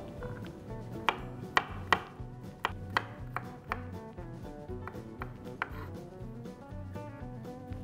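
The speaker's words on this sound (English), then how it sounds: "A few cloves of garlic, which also we are going to roughly chop." Garlic cloves roughly chopped with a knife on a cutting board while making a vegetable Thai green curry: a steady run of sharp, close knife taps, some louder than others, with no talking.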